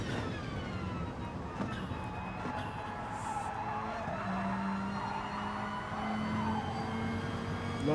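Mitsubishi race car engine heard onboard during a lap at Monza, a continuous whining tone with rising and falling harmonics as revs shift, steady and fairly faint throughout.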